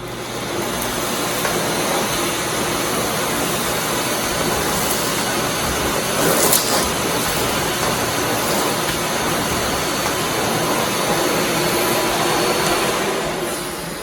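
A Miele Classic C1 Pure Suction Powerline canister vacuum cleaner roars in a loud, steady suction drone through repeated passes of its non-brush nozzle, with only faint shifts in tone and no voices.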